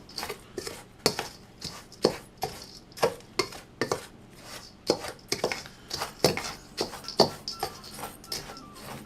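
Dry ingredients for bourbon balls being stirred in a bowl, a steady run of sharp scraping and clinking strokes from a utensil against the bowl at an irregular, brisk rhythm, close and clear with no talking.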